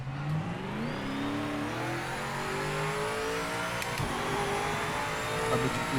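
Race car engine in Project Motor Racing, loud and continuous, revving steadily higher through the gears with brief shift dips on a straight-line speed test; no talking.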